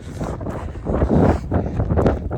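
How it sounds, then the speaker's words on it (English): Strong cold wind buffeting the microphone while running straight into it, loud rumbling gusts that surge and ease across the moment. "going directly into the wind"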